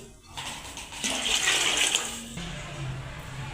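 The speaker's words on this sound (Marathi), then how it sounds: "पाणी टाकलंय आणखीन पाणी टाकायचे" Water pours into a cooking pot of whole spices for chicken biryani with a rushing splash that swells for about a second, then trickles down to a softer gurgle.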